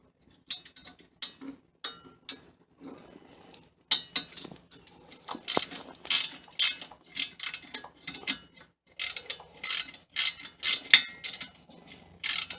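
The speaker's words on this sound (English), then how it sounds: "when you're getting these bolts off, make sure you use a 6-point socket or a 6-point wrench to break them loose" A socket wrench loosens bolts on a Volkswagen, giving bursts of quick ratcheting clicks in irregular runs with short pauses, close and crisp.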